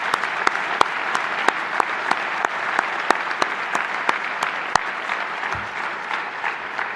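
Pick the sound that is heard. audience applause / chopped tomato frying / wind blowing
audience applause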